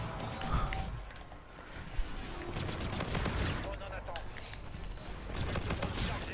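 Bursts of gunfire from the Wheel weapon in Infinite Warfare, with loud broadband volleys spread through the clip, a sharp shot near the two-second mark and repeated clattering bursts behind them.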